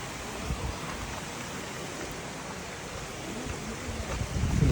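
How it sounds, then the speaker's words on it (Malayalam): A small, low-flowing waterfall deep in Kerala forest, heard as a steady broadband rush of falling water with no break, swelling a little louder toward the end. "വെള്ളച്ചാട്ടം. നല്ല കുറവാണ്"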